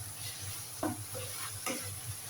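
Low sizzling in a pan as turmeric and chili powder are stirred into dried fish, with a steady hiss and a couple of faint scraping stirs, close and fairly quiet.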